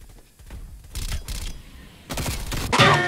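Bursts from a CARV.2 rifle in a Warzone match: a few short, close, sharp volleys of rapid shots with brief pauses between them, ending in a bright crackling burst.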